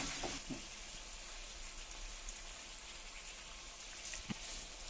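Fennel and cumin seeds with cardamom frying in hot oil, a faint, steady hiss of sizzling with a few small crackles and pops.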